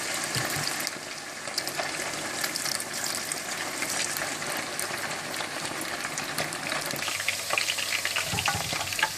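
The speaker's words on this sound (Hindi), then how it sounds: "चिकन को आपने हाई फ्लेम पर डीप फ्राई करना है" Chicken deep frying in hot oil over a high flame, a dense, steady crackling sizzle that fills the whole clip with sharper pops and bubbling bursts toward the end, close and loud with no talking.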